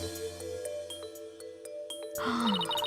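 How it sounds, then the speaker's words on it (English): Chiming bell-like footstep effect from the Ace Attorney: Spirit of Justice video game: a string of bright, ringing tones over a steady game soundtrack, ending in a louder, denser cluster of chimes. "The sound of bells changes to the sound of water at one point."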